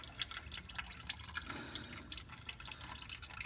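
Engine oil drains from a Charger, Challenger or Magnum SRT8 oil pan fitted with an aluminum belly pan, a faint steady trickle with soft splashing drips, low and close, without talking.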